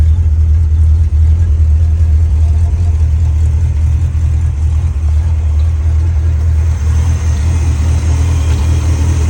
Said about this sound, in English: Under the hood, we have a 289 high output Ford motor.